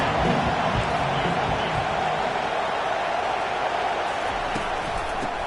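Football stadium crowd roaring steadily in a dense, continuous wash of cheering and noise, loud and sustained throughout with no clear breaks.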